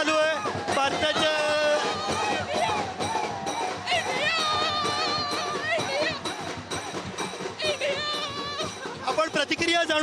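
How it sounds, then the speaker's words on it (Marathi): Cricket fans celebrate India's T20 World Cup win at Shivaji Park, a dense, loud crowd of cheering and chanting voices with music and a reporter talking over the din. "हे सगळे क्रिकेटचे वारकरी जमा झालेले आहेत आणि फुल एन्जॉय जल्लोष त्यांचं चालू आहे"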